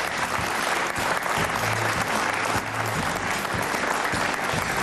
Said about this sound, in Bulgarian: Милена и Юли, силни аплодисменти за тях.